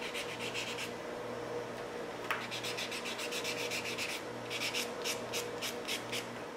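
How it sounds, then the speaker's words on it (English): Light rhythmic rubbing of a nail buffer across fingernails during a gel manicure prep, soft repeated scratchy strokes in short bursts, close and quiet with no talking. "I'm just going to take the buffer and lightly buff her nails"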